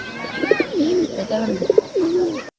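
A man mimics a pigeon's cooing with his voice, giving a run of warbling, throaty coos that rise and fall in short bursts for about two and a half seconds, close and fairly loud with no other sounds.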